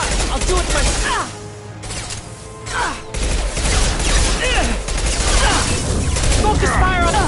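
Loud heavy gunfire in Mass Effect 2 combat: booming impact shots and rapid crashing bursts amid dense battle noise and music, with game character voices speaking over the din.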